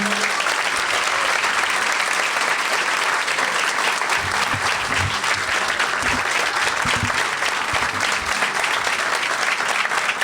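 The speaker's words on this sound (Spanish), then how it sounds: "Un aplauso." Sustained, loud applause from a school community audience at the opening of a new secondary school building in Coronel Suárez, continuous dense clapping over the whole stretch with faint low voices beneath.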